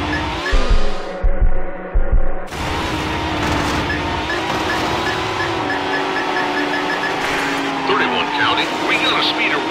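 A silver Mercedes CLK roars along at high speed in the racing game Need for Speed Hot Pursuit 2, its engine droning steadily with tire noise and a sharp shift partway through.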